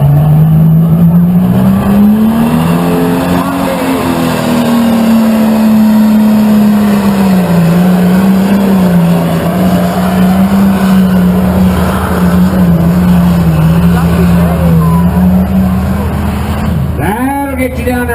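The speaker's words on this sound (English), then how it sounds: "Ford Power, ladies and gentlemen, the Ford Power tractor out of Nebo." Ford Power tractor from Nebo roaring at a tractor pull, a loud sustained engine drone that rises and wavers in pitch for many seconds before cutting off near the end.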